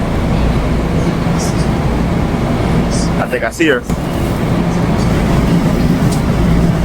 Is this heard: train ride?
yes